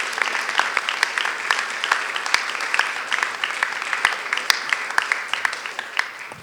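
An audience at a lecture applauds to welcome a speaker: steady, dense clapping from many hands that fills the room and holds at an even level throughout.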